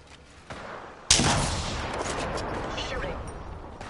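Heavy gunfire in a team battle royale match of Apex Legends Season 15, starting abruptly and continuing as a dense, sustained barrage of shots that stays loud throughout, with faint voices underneath at the start.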